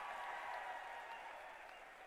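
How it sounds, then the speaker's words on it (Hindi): Audience applause at an event honoring a technology group, heard as a steady, faint wash of many hands clapping in a large hall, continuous and somewhat distant throughout. "तालियों की गड़गड़ाहट।"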